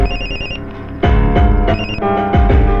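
A telephone rings in a Telugu feature film scene, loud and close, its electronic bell sounding in repeated bursts of about a second each, with no voices over it.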